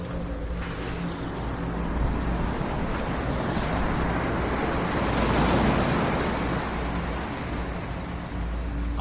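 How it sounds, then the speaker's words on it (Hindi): Ocean surf roars steadily with wind rushing over the microphone, a large wave swelling to a broad crash midway before easing back. "अचानक एक विशाल लहर आई।"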